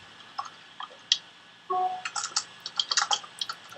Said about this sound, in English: I can hear you typing, actually